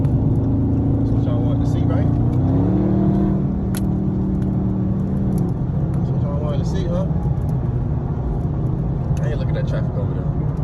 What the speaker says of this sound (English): Traffic over there.